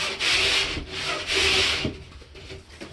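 A rasp scrapes along the cut edge of mold resistant drywall in three rhythmic strokes up close, followed by a few lighter scrapes and taps.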